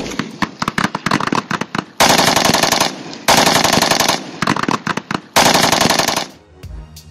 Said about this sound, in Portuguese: Tiro de metralhadora.